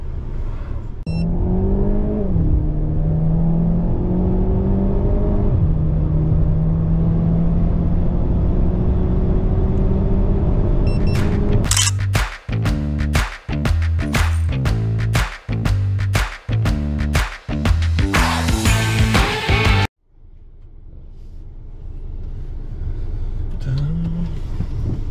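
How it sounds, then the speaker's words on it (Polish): Renault Talisman 1.6 TCE with a 150 hp stage 1 tune pulls away hard from traffic lights, the engine note rising through several revving gears, then a burst of sharp interruptions at gear changes before the car settles into a steady loud drone. "czuć, że wóz teraz jedzie i się fajnie napędza"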